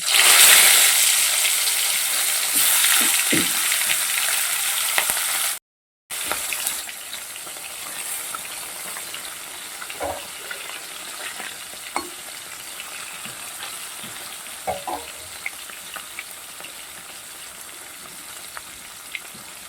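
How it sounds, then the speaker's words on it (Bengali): Loud, steady sizzling of fish frying in hot oil, briefly cut off, then continuing as a softer crackle with scattered pops and clinks. "তেলটা গরম হয়ে গেছে আর মাছগুলোকে আমি ভেজে নেব"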